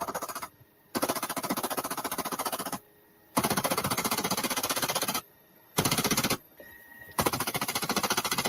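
Rapid automatic gunfire comes in several loud, sustained bursts of fast repeated shots, separated by short silent pauses.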